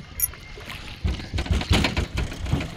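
A small boat moves along a clear river, giving a steady wash of water and rumbling motion that grows louder after the first second and continues as an unbroken, close, noisy rush.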